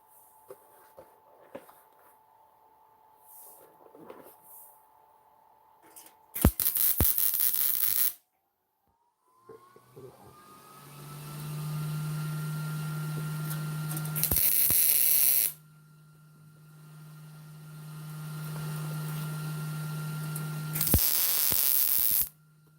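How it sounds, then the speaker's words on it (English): Workshop air compressor running during side panel welding repairs, a steady droning hum that starts, stops and restarts, with sharp loud bursts of hissing air breaking in between. "And then I got to turn the compressor on, so you got to listen to all that noise in the background."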